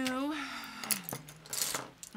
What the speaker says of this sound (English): excuse the noise, because they make noise every time they hit the bottom of the can